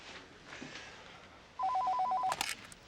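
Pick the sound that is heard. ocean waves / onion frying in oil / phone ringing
phone ringing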